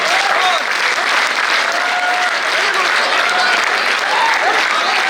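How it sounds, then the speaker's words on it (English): Students at a CA success event clap for themselves in a sustained, dense round of applause filling a hall, with a few voices rising faintly above the even clatter. "Keep clapping, don't stop. Keep clapping."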